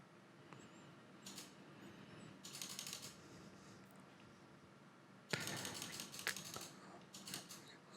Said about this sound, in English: Probably hear me clicking like crazy to try and get this in.